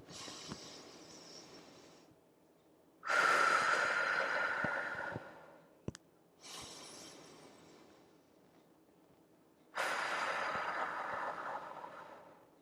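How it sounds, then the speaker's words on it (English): Deep breathing during an energy healing session, with long, soft breaths drawn in and let out slowly, alternating with quiet pauses, close and gentle in a still room. "4 in and out breaths"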